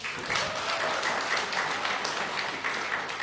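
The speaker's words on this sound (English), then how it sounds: "Another round of applause, please." A graduate recognition ceremony audience at the University of the West Indies gives sustained, even applause, many hands clapping together in a continuous close wash.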